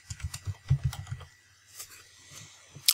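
Soft, fast clicking of a computer keyboard as a short name is typed, a quick burst of keystrokes followed by a few scattered taps and a final sharper click, close and quiet with no talking.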